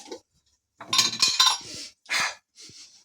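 A cover set back onto a pan while making French toast, heard as a few close metallic clinks and scrapes separated by short pauses, along with soft breathing.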